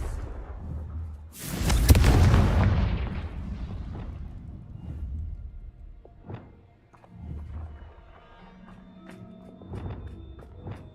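Confringo fire blast spell exploding in Hogwarts Legacy: a single loud, roaring burst that swells and decays over about two seconds, followed by quieter thumps and scattered game effects.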